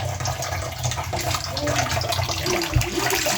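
Tap water runs steadily while leafy greens such as spinach, pigweed, sukuma and pumpkin leaves are rinsed in a kitchen, with a constant close gush and splashing.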